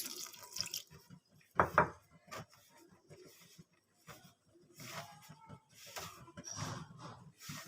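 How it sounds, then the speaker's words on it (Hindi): Lukewarm water runs and splashes into a bowl of sifted flour for paratha dough, with faint trickling and a brief louder splash, heard up close and quiet. "अब हम इसमें ऐड करेंगे नीम गर्म पानी।"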